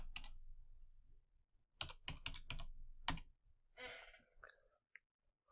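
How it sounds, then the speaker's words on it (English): Someone types on a computer keyboard in a quick run of sharp clicks, followed by a few scattered keystrokes and a soft sigh, close and quiet against a faint background hum. "Type again."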